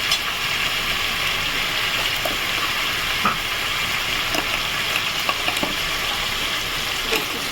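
A paste of tomato, onion, ginger and garlic fries in a pan, giving a steady hiss and sizzle with occasional soft scrapes and clicks from stirring, moderately loud and alone without talk.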